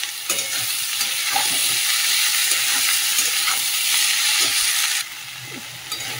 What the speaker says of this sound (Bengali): এই যে সবজিটা ভালো করে কষিয়ে নিলাম